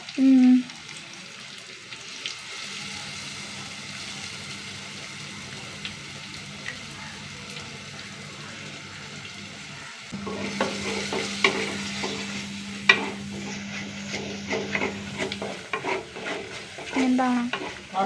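A coconut spice paste fries and sizzles in a pan while a utensil stirs and scrapes through it. The sound is a long, close, steady hiss with irregular clinks and scraping, and there is no speech.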